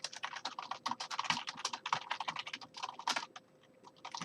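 Code being typed on a computer keyboard in rapid clattering bursts of keystrokes, close and crisp, pausing briefly near the end before resuming.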